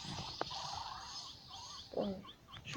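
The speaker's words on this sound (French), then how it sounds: "je sais pas si vous entendez la mouette là" A seagull calls with a few squawking cries, faint and somewhat distant, over a steady background hum, with no speech.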